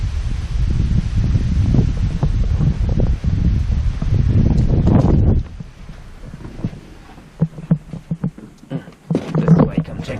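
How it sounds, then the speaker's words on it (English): Hurricane Dorian wind buffeting the microphone in a heavy, steady roar for about five seconds, then easing into gusty rustling with intermittent bumps and a voice briefly heard. "Kind of windy."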